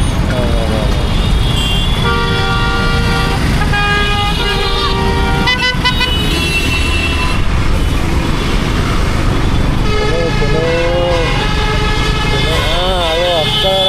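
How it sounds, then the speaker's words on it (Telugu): Busy road traffic on a motorcycle ride toward Ladakh, with repeated honking car and truck horns, some wavering, over a constant engine and road roar, close and loud, with a voice talking intermittently. "అదే అక్కడ వరకు ట్రాఫిక్"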